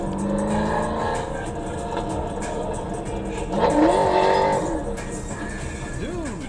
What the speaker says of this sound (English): Why you try to drive so hard and your car sounds like it's farting?